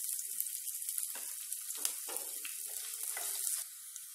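Chopped onions and dried red chillies frying in oil in a pan, a bright crackling sizzle with bursts of spitting, quieter and close, fading slightly at the end.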